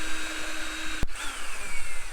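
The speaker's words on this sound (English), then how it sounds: "I'll chuck the drill in and give you a bit of a demo" A power drill runs steadily at close range outdoors on a desert 4x4 trip, with a constant high whine, briefly interrupted by a sharp click partway through.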